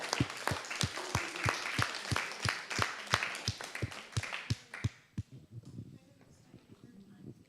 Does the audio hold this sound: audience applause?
yes